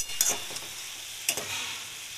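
Ginger fries in a pan for a cabbage dish, giving a steady soft sizzle broken by two brief scraping stirs close by, with no talking.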